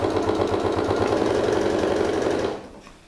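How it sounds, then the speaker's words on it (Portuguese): Sewing machine topstitching along a zipper, a close, steady mechanical whir with fast rhythmic needle pulses running for over two seconds before slowing and stopping. "Vou posicionar e vou fazer o pesponto aqui"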